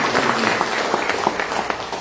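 A church congregation applauds together in a steady, dense patter of many hands that stays even for the whole moment, with faint voices underneath.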